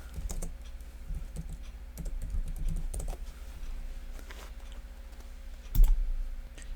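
Keys clack on a computer keyboard during Ubuntu setup in VirtualBox, a nearby burst of irregular taps with short pauses between them and one louder thump near the end, with no one speaking.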